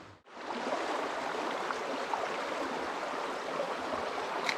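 A mountain creek in Victoria's High Country rushes steadily around someone wading through it on a morning fishing trip, a close, loud, continuous wash of flowing water with no talk.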